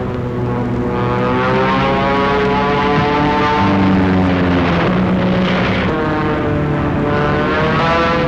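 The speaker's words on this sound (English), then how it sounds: "here come 2 Thunderbolts" Two WWII P-47 Thunderbolt fighter planes pass overhead, a loud sustained propeller engine roar that swells and shifts in pitch as they fly by, with no talk.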